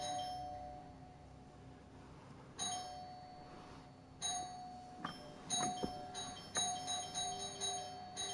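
A doorbell rings in the game Skyrim with faint chiming dings, several spaced tones that come closer together toward the end over a quiet background.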